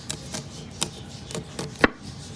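A sharp knife chops kernels off a steamed corn cob in a handful of crisp, separate cuts, the last one loudest, heard up close with no talking.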